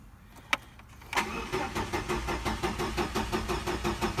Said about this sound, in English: And it won't crank.